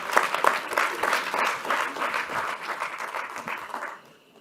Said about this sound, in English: A round of applause for the team from Nigeria.